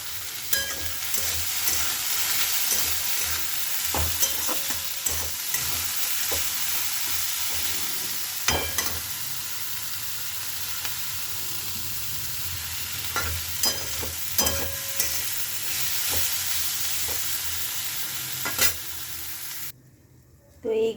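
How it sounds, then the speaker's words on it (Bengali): Bitter gourd and potato frying in hot oil in a wok, a continuous loud sizzle with intermittent clicks and scrapes of stirring, close up, with no talking. "এই যে কড়াইতে তেল দিয়ে দিয়েছি, গরম হলে উচ্ছে আলুটা আগে ভেজে নেব"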